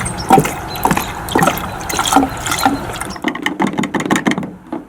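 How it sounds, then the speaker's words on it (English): Fuel additive glugs and trickles as it is poured into the fuel tank of a turbo Chevy Silverado Duramax pickup that sat for six months, a close, uneven liquid pour with sloshing bursts. "Additive into the fuel because the fuel has been sitting for 6 months."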